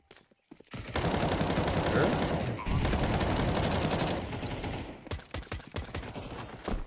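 An MP9 submachine gun fires in Counter-Strike 2 during a competitive esports match: a long, loud, sustained burst of rapid automatic fire, then a string of shorter clipped bursts and single shots.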